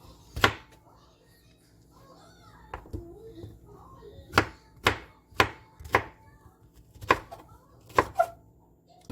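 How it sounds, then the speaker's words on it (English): A knife dices pineapple against a cutting board, sharp close thuds in irregular bursts with quiet pauses between. "So I'm gonna dice it up. A nice little small cubies."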